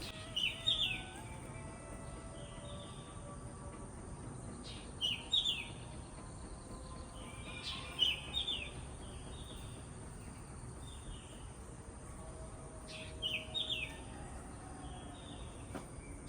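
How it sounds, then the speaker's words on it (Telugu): At early dawn, around 4 a.m., birds give short bright chirps in bursts every few seconds over a steady bed of crickets, fairly faint and distant in a quiet outdoor setting. "ఇక్కడ బర్డ్స్ సౌండ్ అయితే ఎంత బాగా ఎర్లీ మార్నింగ్ వినిపిస్తుందో ఒకసారి"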